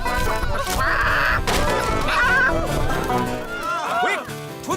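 A cartoon chicken escaping clucks and squawks in busy, excited bursts, mixed with dense music and voices, loud throughout.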